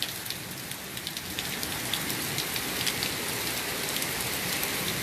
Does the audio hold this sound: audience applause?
no